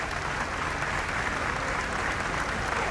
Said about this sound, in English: Tremendous applause for Nancy Reagan, which she acknowledges warmly and with a bit of a smile.